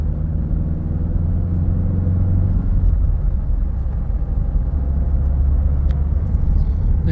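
A Citroen C5 Tourer with the 2.0 BlueHDi 150 diesel engine accelerates on the road, a steady low engine rumble and road noise heard from inside the car, without talk.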